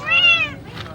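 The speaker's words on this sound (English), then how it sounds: "He's a cat" A cat's meow, a single drawn-out tonal call lasting about half a second, close and clear, followed by faint rustling.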